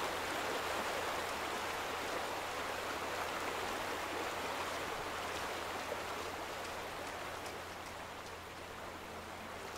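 A stream of water flows in a steady, even rush of broadband noise in the video game The Vanishing of Ethan Carter, continuous and moderately quiet throughout with no voices.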